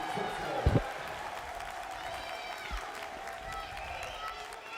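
An arena crowd at an NAIA men's basketball national tournament game, Benedictine Mesa against Nelson, fills the hall with a steady roar and scattered shouts, with a sharp thump early on and a commentator talking over it.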